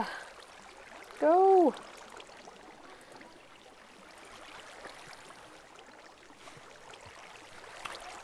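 Steady soft trickling of water flowing in a video game as a base fills up, a continuous low wash, with a short tonal voice-like sound near the start.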